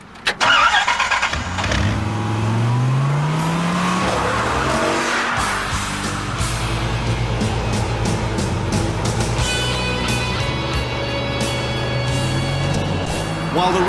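An 8-litre Chrysler Viper sports car starts up and drives off loudly, its engine revving and roaring with a brief tyre squeal, then settling into a sustained, close, powerful drone.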